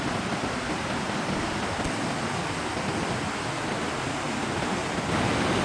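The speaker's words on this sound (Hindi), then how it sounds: "नदी बहुत तेज़ है तो बहता है" A fast-flowing river rushes in a steady, loud, unbroken roar at a cast-net fishing spot, with no voices over it.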